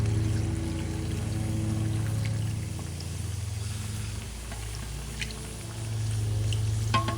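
Seafood stock is poured into a pot of Louisiana-style gumbo, a steady liquid pour that runs for several seconds, fades and then picks up again, heard up close with no talking.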